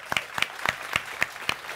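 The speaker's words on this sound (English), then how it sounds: "Come on, round of applause." Sparse applause from a small audience at a Google lightning talk in Cannes, a handful of separate claps spaced out over a couple of seconds, fairly close and moderately loud.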